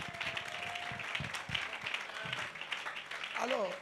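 A church congregation applauds to acclaim the Lord during an Easter celebration. The clapping is steady and crowd-wide, with voices talking over it.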